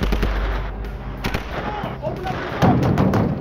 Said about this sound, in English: Repeated gunfire echoed through Washington, D.C. police headquarters.